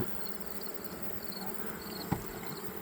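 A honeybee colony roars during a hive inspection, a soft, steady, continuous buzzing hum that stays faint throughout.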